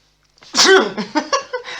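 A single loud, close sneeze bursts out, trailed by a few breathy sputters.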